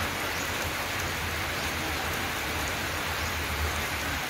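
Heavy rain pours down steadily and loudly, a dense continuous wash of drops drumming on surfaces with no voices over it.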